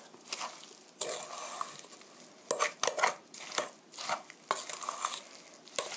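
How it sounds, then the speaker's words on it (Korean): Pear pancake batter being mixed in a bowl with slow cutting strokes, producing irregular soft scrapes and clinks of a utensil against the bowl, close and moderately loud. "이렇게 천천히 자르듯이 섞어주세요."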